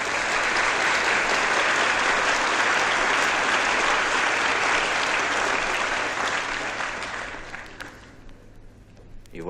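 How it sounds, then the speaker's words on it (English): A concert audience at a 1955 European choir performance gives sustained, dense applause that fills the hall and then tapers off near the end, leaving a few scattered claps. "You applauded too soon."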